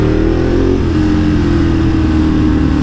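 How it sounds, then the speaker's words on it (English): Loud, continuous motorcycle engine with a loud exhaust revving steadily close by, a dense throbbing roar that holds throughout with no pauses. "I've got a loud exhaust."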